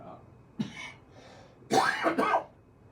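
A short cough, then a louder double cough close by, in an otherwise quiet room.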